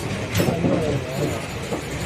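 A passenger train pulling into Chengalpattu railway station, heard from on board as a continuous close rumble with faint rhythmic clatter and hiss over about two seconds.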